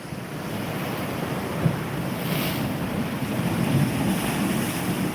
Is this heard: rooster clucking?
no